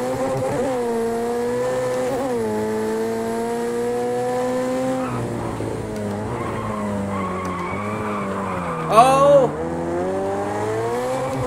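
Race car tires slip, skid and squeal in Project Cars 2, played on a Thrustmaster TS-XW Sparco Edition wheel, over a continuous engine drone that rises and falls, with one sharp louder screech near the end and a brief exclamation.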